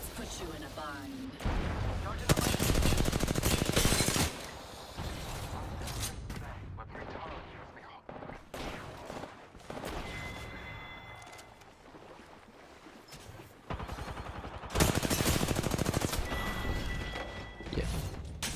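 Bursts of automatic gunfire in the video game Apex Legends, rapid loud volleys at the start and again near the end with quieter mechanical game sounds between, and a voice speaking over the action.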